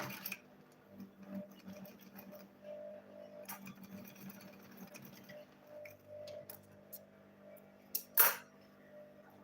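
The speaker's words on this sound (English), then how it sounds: "I'll go ahead and sew it here." A sewing machine stitching across the middle of a handmade school bag, running in fairly faint, uneven bursts with small mechanical ticks and a sharper clatter near the end.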